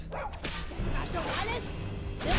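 A dog barking and yipping in Skyrim Special Edition amid combat, several short barks mixed with whooshes and game effects, moderately loud, with someone talking over the action.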